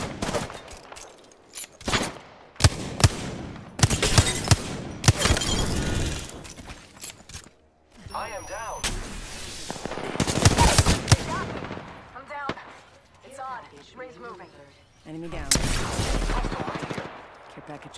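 Apex Legends gunfire rings out as repeated loud bursts of automatic weapon fire, separated by short pauses, with sharp impacts and shattering crashes mixed in and a voice calling out at times.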